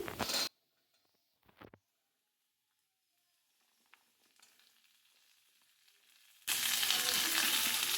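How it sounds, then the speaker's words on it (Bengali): Mixed vegetables and green chillies drop into a pan of fried lentils for khichuri, with a brief loud sizzle, some clatter, a quiet stretch, then a strong steady hiss of frying at the end. "ডালটা ভাজা হয়ে গেছে এবার ডালের মধ্যে আমি সমস্ত রকম সবজি দিয়ে দিচ্ছি"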